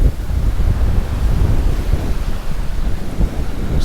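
Rough sea surf on a beach at Mirissa, Sri Lanka, a steady loud broadband roar of breaking waves with wind buffeting the microphone throughout, no voices.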